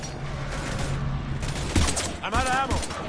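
Gunfire in the video game Mass Effect 3, a few sharp shots and bursts over a steady game soundscape with voices talking throughout.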